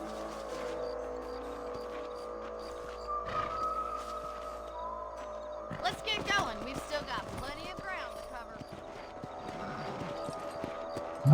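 Horse hooves clip-clopping in the video game Red Dead Redemption, a steady trotting rhythm under ambient game sound and background noise, continuing through the stretch with some louder movement midway.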